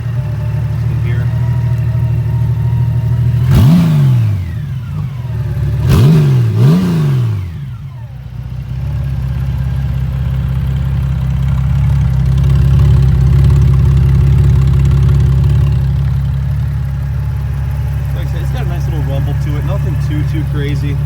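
A Honda Goldwing 1800 ABS motorcycle engine cranks twice with short whining starter bursts, then catches and settles into a steady, smooth low idle. Someone talks over the running engine.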